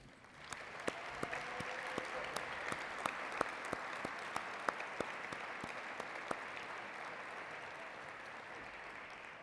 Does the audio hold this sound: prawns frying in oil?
no